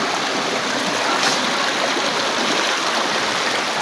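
A river flows through a forest with a steady, full rushing of water, close and constant, with no breaks or voices.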